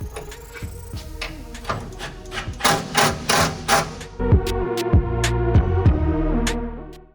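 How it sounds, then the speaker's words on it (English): A ratcheting 9/16 wrench and socket tightening fittings while installing an AirDog DF-165-5G fuel system on a Powerstroke truck, a loud, close run of rhythmic clicks followed by a steady mechanical whir. "use our 9/16 wrench and socket and get these tightened up"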